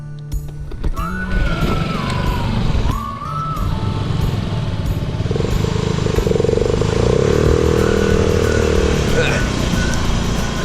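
A Harley-Davidson Road King motorcycle runs steadily throughout a test ride, its engine rumble loud and continuous while a person talks over it.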